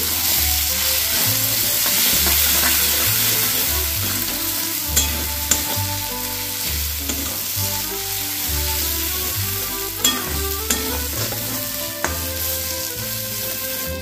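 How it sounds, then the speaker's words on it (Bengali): Turmeric, Kashmiri chilli and coriander powder frying in a pan, a loud, continuous sizzle with occasional sharp spatula taps and scrapes, close up and uninterrupted by speech. "এবারে ভালোভাবে এটা ফ্রাই করে নিচ্ছি।"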